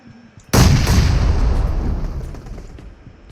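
A grenade goes off in PUBG Mobile with one sudden loud blast about half a second in, followed by a long rumbling decay that fades over the next few seconds.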